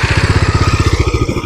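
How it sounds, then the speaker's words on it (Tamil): A 2022 Bajaj Dominar 250 motorcycle idles just after starting, its fuel-injected engine throbbing in a steady, even rhythm, loud and close with no talking. "இதான் வண்டியில் ஐடியல் சவுண்டு."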